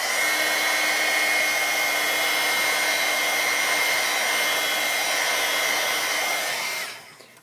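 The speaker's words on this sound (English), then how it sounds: "let me just hit that with the heat gun real quick" A heat gun blows steadily for about seven seconds to dry archival ink on a craft card, a loud, even whooshing roar heard alone that winds down at the end.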